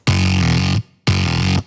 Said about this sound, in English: So let me just show you how I made this bass then.